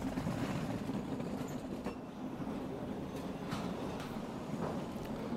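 A crate rolls along a factory conveyor on a line building suspension parts, a continuous rumbling clatter with light knocks, steady and fairly close, with no talking.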